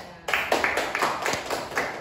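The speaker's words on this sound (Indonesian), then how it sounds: "kasih tepuk tangan buat Mas Rangga" Clapping starts suddenly for a speaker in a group discussion, a few people beating out brisk, evenly spaced claps close by, with a steady electronic whine in the background.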